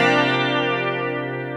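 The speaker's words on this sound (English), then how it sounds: "Now, that's not as strong as some of those electric guitar choruses" A sustained electric guitar chord rings out through a chorus effect turned up in the mix, giving a shimmering, slightly warbling tone that slowly fades with no other sounds.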